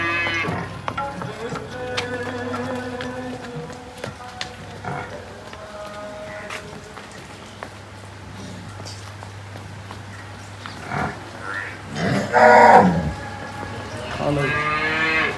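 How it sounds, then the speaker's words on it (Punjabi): A Nili-Ravi buffalo moos several times in long, low calls, with a louder bellow near the end, alongside shuffling hooves and farmyard movement nearby. "ਮੱਝ ਆ ਦੋਸਤੋ ਬੂਰੀ ਹੈ ਨੀਲੀ ਰਾਵੀ"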